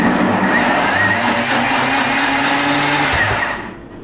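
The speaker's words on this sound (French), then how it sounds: "et là, tu mixes. À fond." A blender whirs loudly at full speed, puréeing strawberries with vanilla and sugar. The steady grinding roar holds for several seconds, then winds down and stops.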